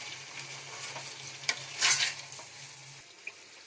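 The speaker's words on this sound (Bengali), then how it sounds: "এবার আমি এতে জল দিয়ে দিচ্ছি" Warm water is poured into a pan of fried potatoes and cauliflower, giving a sudden loud hiss that fades back into a soft, steady sizzle with a few light clinks.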